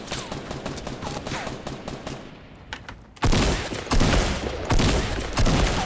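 Gunfire in Fortnite's 50 vs 50 mode comes in dense bursts. A steady volley gives way to a short lull, then loud, close automatic fire resumes and continues.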